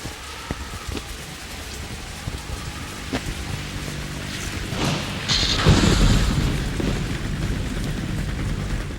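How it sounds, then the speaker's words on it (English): Rain pours steadily through a stormy night in Metal Gear Solid 2, with scattered drops tapping near at first before a deep rumble of thunder swells and the downpour thickens. "It was a dark and stormy night."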